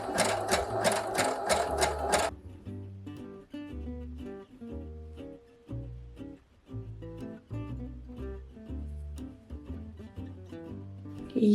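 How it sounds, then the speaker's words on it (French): A small home sewing machine overcasting raw fabric edges, a fast buzzing burst at the start, then steady stitching runs with brief pauses, close and continuous with no talk. "je vais surfiler tout ça sur ma petite machine à coudre chérie"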